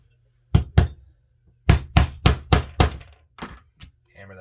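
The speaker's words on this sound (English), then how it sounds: "Hammer that down." A hammer strikes a pointed setting die to fix a snap onto fabric for sewn pants: about nine sharp, close knocks land in quick rhythmic bursts, with short pauses between groups.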